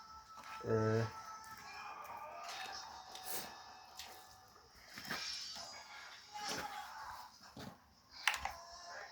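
A dog whimpers in short, soft whines. A brief louder cry comes early, and faint scattered sounds follow while people talk quietly nearby.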